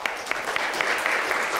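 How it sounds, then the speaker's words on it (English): Audience applause for a conference panel on automation in malware analysis, a steady wash of many hands clapping through the whole short stretch, fairly close and even in loudness. "One more round of applause, please"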